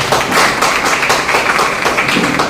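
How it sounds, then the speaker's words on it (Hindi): An audience at a Safe Shop business plan meeting gives a dense, sustained round of applause for Nazia ma'am, many hands clapping together at an even loudness throughout, with no voices over it. "हम चाहेंगे नाजिया मैम के लिए एक जोरदार तालियां बजाई जाए"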